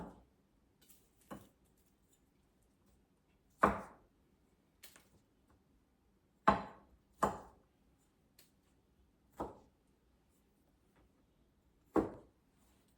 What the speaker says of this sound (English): now I'm going to go ahead and chop it